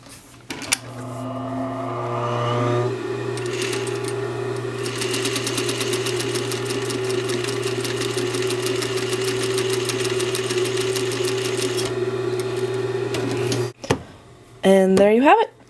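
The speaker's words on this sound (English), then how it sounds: "we're just going to do it by machine." A sewing machine stitches a welt pocket, its motor whirring in a long steady run of rapid needle strokes, with a few short bursts at the start and end.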